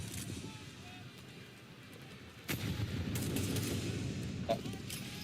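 Gunfire in the game Counter-Strike 2, a muffled volley of shots growing louder midway and heard alongside crowd and match noise.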